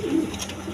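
Pigeons at a breeding loft coo softly in a brief low murmur, a single close call rising and fading over a faint steady background.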